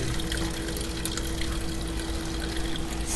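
Liquid from farmer's cheese being strained through a sieve set inside a pot, a steady close rush of pouring and running water that carries on without a break and without voices.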